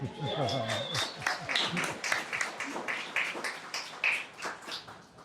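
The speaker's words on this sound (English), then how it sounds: "You can clap, it's okay." A hometown audience claps for a mayor, with a voice speaking over the start before the crowd breaks into moderate, somewhat scattered applause that carries on to the end.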